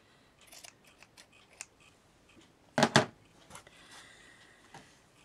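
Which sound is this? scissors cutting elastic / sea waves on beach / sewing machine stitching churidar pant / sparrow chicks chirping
scissors cutting elastic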